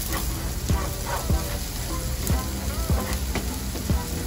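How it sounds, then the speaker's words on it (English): Pepper flakes sautéing in a pan for a jjamppong pasta, a continuous close sizzle broken by several sharp scrapes of stirring at irregular intervals. "ilagay lang natin siya dyan para magigisa rin siya muna"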